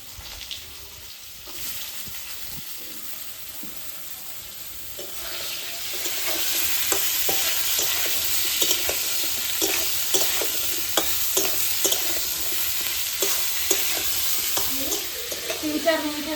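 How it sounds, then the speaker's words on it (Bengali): Potato and ridge gourd fry in a pan with a steady hiss, then a louder sizzle with repeated scraping and stirring clicks that continue throughout. "আলুটাকে একটু ভাজা করে তারপরে আমি ঝিঙেটাকে দেব।"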